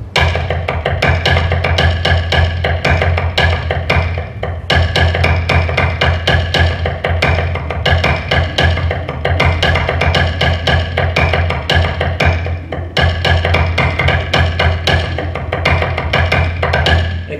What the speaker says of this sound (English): It's called a prelude, so that you can get your sticking right and you can move from 2-4 to 6-8.